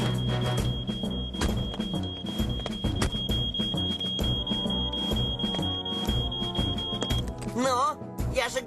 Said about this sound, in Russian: Сигнализация неисправна.